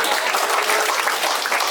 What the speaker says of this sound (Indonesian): Siapa suruh tepuk tangan?